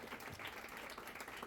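A brief, dense burst of audience clapping fills a forum hall at a results event on Mexican talent in Spain, continuous and even throughout.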